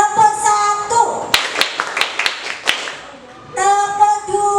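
Children clap hands during a clapping game at a classroom ice-breaker, a quick burst of sharp claps in a short pattern between spoken and chanted voices.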